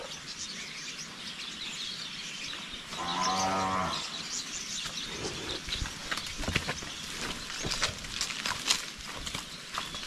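A young cow gives one low, drawn-out moo early on, followed by outdoor ambience with scattered bird chirps and faint rustling.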